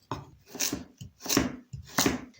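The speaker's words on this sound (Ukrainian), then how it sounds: "Тепер наріжемо морку. Я різу завжди такими довгими полосочками." Knife slicing carrot into long strips on a board, four crisp rhythmic chopping strokes about half a second apart, close and clear.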